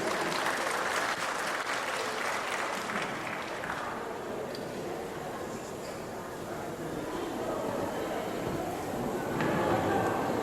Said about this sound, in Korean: 시장님께 큰 박수 부탁드리겠습니다.